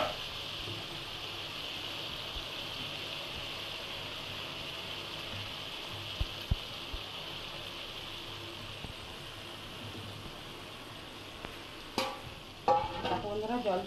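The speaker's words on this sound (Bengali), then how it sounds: "এবার চানা পনিরটা আমি দিয়ে ভালো করে কষিয়ে নেব।" Chana paneer is sautéed with spices in oil, a soft steady sizzle at low level with occasional faint clicks and a few clattering knocks and scrapes near the end.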